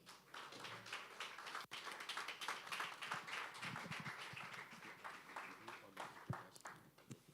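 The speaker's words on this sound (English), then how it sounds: "Please, the clap offering is very low." An audience at a Social Workers Association of Ghana gathering claps steadily, a dense patter of hand claps recorded faintly and at a distance, with no speech over it.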